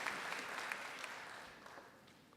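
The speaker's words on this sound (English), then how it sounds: "For this, give yourself a round of applause." Conference audience at UNESCO in Paris applauding, a fairly faint spread of many hands clapping that gradually tapers off over a couple of seconds, heard from across the hall.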